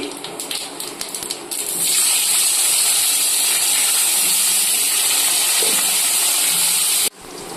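A loud, steady sizzling hiss bursts up after a few seconds of lighter crackling as bay leaves and cumin seeds hit hot fish-frying oil, holding strong and close until it suddenly drops near the end.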